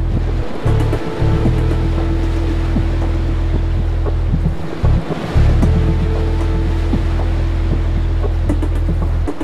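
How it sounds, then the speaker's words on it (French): Waves from a 5 m by 5 m piston-driven hydraulic wave maker in a lab flume wash and surge loudly and continuously, with a steady mechanical hum underneath and periodic low thumps. "Les vagues sont générées par un batteur hydraulique de 5 mètres par 5 mètres."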